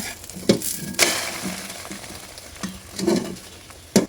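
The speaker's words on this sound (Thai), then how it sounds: "กระทะร้อนแล้วใส่ไข่ลงไปเลย" Egg sizzling and frying in a hot pan, with a constant crackle broken by several sharp scraping taps of a utensil against the pan.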